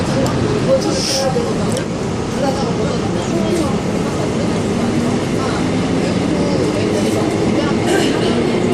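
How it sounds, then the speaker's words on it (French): A metro train rumbles through its arrival station, steady rolling noise with occasional squeals and clatter, voices murmuring in the background. "Alors on se retrouve dans le métro à la station d'arrivée"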